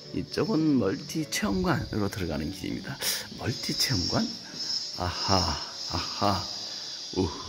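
A steady high-pitched cicada drone runs beneath people chatting casually nearby inside an insect museum, the buzzing continuous throughout.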